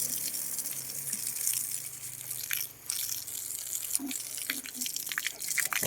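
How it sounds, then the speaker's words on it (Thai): Water splashing and dripping as an elephant is bathed outdoors, a steady wash of splashes with scattered louder drips and spatters, close and fairly loud with no talking. "ฟางก็ต้องมาอาบน้ำอย่างนี้นะครับ ทุกวันครับ"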